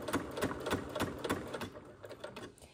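A sewing machine stitches an invisible zipper in a rapid, even mechanical chatter, close and steady, easing slightly toward the end.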